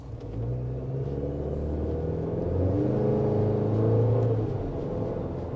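A 2023 Chevy Colorado WT pickup engine rumbles and pulls steadily under acceleration, its low drone rising gradually, heard from inside the cab with no talking.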